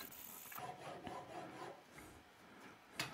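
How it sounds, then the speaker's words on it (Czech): A hand file rasps steadily across a metal hammer head being shaped in a workshop, with repeated close scraping strokes in a continuous rhythm and no talking. "pilník byl v akci hodně"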